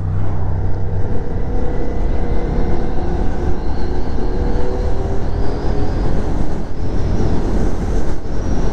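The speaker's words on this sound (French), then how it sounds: "Voilà, la moto accélère toute seule." A Ducati Diavel V4 motorcycle rides along a road under cruise control, giving a steady, loud rumble of engine and wind noise that carries on without a break.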